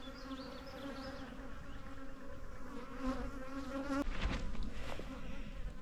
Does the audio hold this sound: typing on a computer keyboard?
no